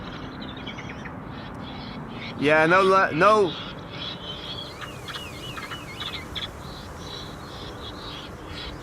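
A bird controller at Amsterdam Schiphol airport voices two loud, harsh bird-like calls near the runway to scare birds away, a human imitation of bird cries over a steady airfield hum, followed by faint distant chirps.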